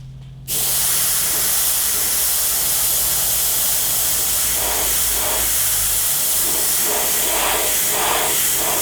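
An airbrush sprays paint onto a chopper motorcycle tank in a dragon hellhound design, starting after a brief silence and then running as a loud, steady hiss that pulses faintly with each pass.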